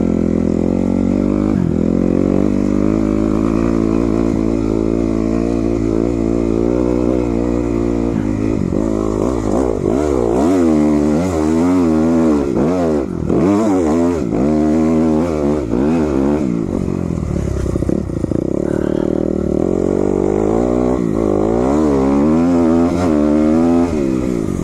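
A dirt bike's engine revs hard while being ridden on a trail, a loud, close, continuous roar that climbs and drops in pitch through throttle changes, with no talk.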